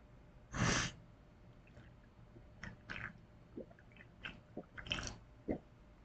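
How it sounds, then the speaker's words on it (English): Close, soft gulps of water being swallowed, several short wet bursts spaced irregularly with quiet breaths between them, captured near a microphone without speech. "Please tell us you didn't hear that gulping."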